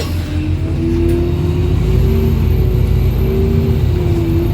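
A loud, steady engine drone with a rising whine as a bus picks up speed, heard from inside, on the 424 service near Copthorne.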